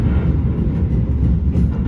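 Progo New Generation passenger train running on rails between Jogja and Bekasi, a loud, steady low rumble with continuous rolling noise and no talk over it.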